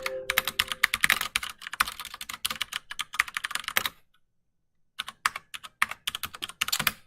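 Fast, uneven typing on a computer keyboard, crisp close-up key clicks in bursts, with a pause of about a second before the tapping resumes, no voices.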